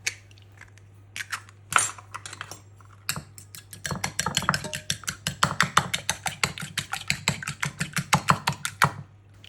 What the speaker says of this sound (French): Je le fouette bien.